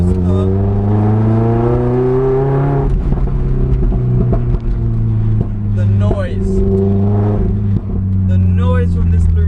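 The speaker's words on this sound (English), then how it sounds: "noise from this Larini exhaust, naturally aspirated engine, is just something else" A Lotus with a naturally aspirated engine and Larini exhaust revs close by, a loud, sustained engine drone that holds and then swells, with brief breaks between rises.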